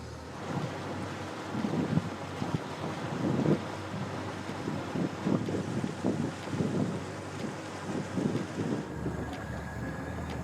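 Constant rumble of a boat moving across open water on Lake Superior, with wind buffeting the microphone and waves slapping against the hull.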